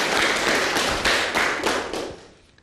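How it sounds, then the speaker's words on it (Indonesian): Students in a study class clapping for a classmate, a ragged burst of hand claps with distinct individual slaps that thins and fades out after about two seconds. "tepuk tangan buat Ginanjar"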